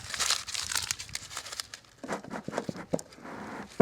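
Paper is crumpled by hand up close to stuff a beekeeper's bee smoker, making a steady crackling crinkle with bursts of rustling and soft tearing.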